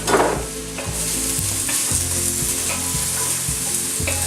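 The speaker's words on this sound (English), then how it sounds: "An onion and put it right into that skillet." Onion sizzling in a hot skillet, a loud, close, steady frying hiss with a burst at the start and repeated light scrapes as it is moved around, no voices.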